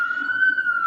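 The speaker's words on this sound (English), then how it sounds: "Oops, sirens in New York." A single emergency siren in New York holds a steady, loud wail throughout, with faint low background rumble and no one talking.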